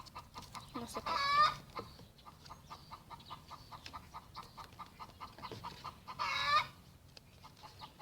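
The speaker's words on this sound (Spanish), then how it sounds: "ya va a empezar la gallina." Domestic chicken clucking and squawking in bursts, with two louder cackling outbursts near and a steady patter of softer clucks in between, heard indoors.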